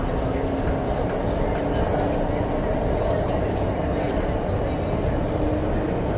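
Zhengzhou Metro Line 6 subway train running, a steady loud rumble of wheels and carriage noise throughout, with people talking and an onboard announcement voice over the din.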